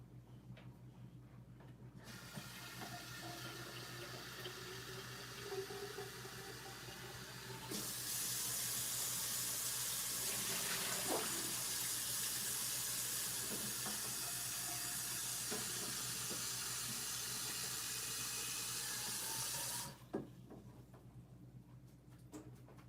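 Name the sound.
water tap running while rinsing a repair piece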